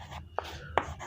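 Chalk or marker strokes on a classroom board during a Class 10 history lesson, two short scratchy taps over low room hum with no talking.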